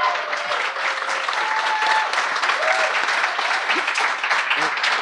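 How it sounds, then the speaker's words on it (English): Audience at a live board game panel at Board Games Expo 2018 applauding, a dense, sustained wash of clapping that stays loud and even for about five seconds. "Can we have a round of applause, please?"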